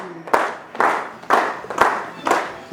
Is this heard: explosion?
no